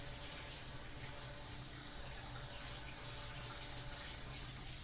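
Tap water running steadily over an offset spatula as it is rinsed in a sink, a continuous broad hiss and splash that stays even and moderately close throughout, with no talk.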